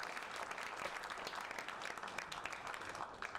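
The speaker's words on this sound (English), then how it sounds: "Let's give a round of applause to Mario." Audience at a tech week founder event applauding, a steady, even patter of many hands clapping, fairly quiet and distant, with no talking over it.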